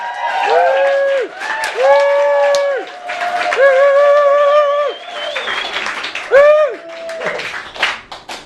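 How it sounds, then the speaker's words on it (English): A comedy club audience applauds and cheers as a comedian is welcomed to the microphone, with loud clapping and rising whoops and sustained vocal cheers rolling in waves for several seconds before fading. "Lots of applause for cheering."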